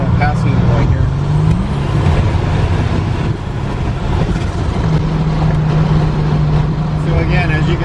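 A Buick GNX accelerates hard from inside the cabin, with a loud, continuous engine roar and a rising tone that drops and then climbs again as it shifts.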